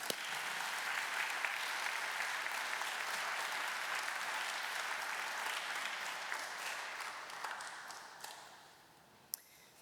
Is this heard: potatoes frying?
no